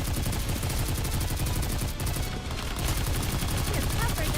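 Heavy automatic gunfire pounds away in the video game Goddess of Victory: Nikke, a loud, relentless volley of rapid shots with a brief dip before the barrage picks back up.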